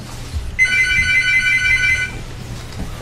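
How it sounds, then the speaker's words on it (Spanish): A telephone rings in one electronic burst of warbling tones for about a second and a half, fairly loud and close, over a quiet room hum. "Y ahora el teléfono, joder."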